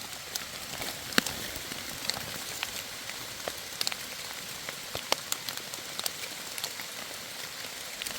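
Steady rain falls outdoors in a rural mushroom-foraging area, a dense close hiss dotted with sharp individual drops striking nearby surfaces, with no speech.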